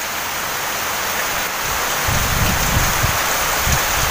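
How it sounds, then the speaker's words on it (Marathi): Heavy monsoon rain pouring onto trees, a dense continuous hiss with deeper gusty rumbling joining midway, loud and close without any voices. "हा हे बघा सगळी झाडं ते पावसाच्या आतमध्ये."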